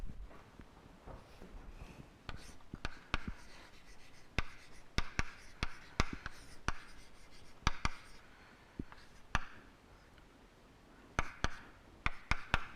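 Chalk scratches and taps on a lecture-hall board as a Fourier series is written out, short bursts of strokes and sharp clicks in uneven clusters, fairly close, with quiet room tone between.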